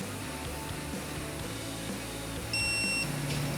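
A digital torque wrench gives a steady high electronic beep for about half a second when it reaches target torque, heard close over a broad background hum.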